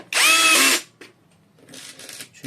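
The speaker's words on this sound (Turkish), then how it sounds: "Burada ben torklu bir şarjlı matkap kullanıyorum" A torque-setting cordless drill driving screws into a Xiaomi robot vacuum whirs loudly in one short burst, followed by quieter faint mechanical scraping and handling noises.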